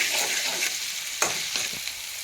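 Ginger-onion paste frying in a pan gives off a steady sizzle, broken by several distinct scrapes as a spoon stirs it to keep it from sticking to the bottom.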